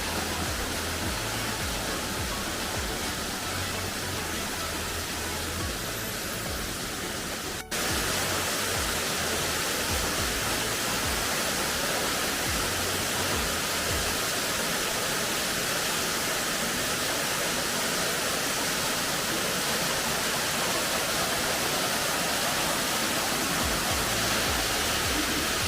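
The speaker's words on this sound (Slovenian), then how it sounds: "Že dolgo nismo imeli slapu." A waterfall in the Gačnik gorge, Slovenia, gives a loud, steady broadband rush of falling water. The roar stays constant throughout, with a faint low rumble underneath and no voices.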